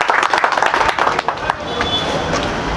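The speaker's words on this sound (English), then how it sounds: "Another round of applause, please, for the Director of Tourism." An audience at a World Tourism Day event applauds the Director of Tourism, a dense patter of hand claps that tapers off into scattered clapping and crowd murmur.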